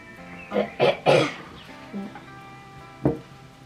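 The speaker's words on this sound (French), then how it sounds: "J'ai toussé" A person coughs several times in a quick burst, close by, then clears their throat once more after a short pause.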